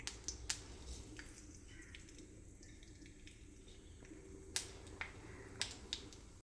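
Mustard seeds dropped into generous hot oil for a mint chutney give off a few sharp, isolated pops over a quiet background hiss, faint overall, with clustered crackles near the end.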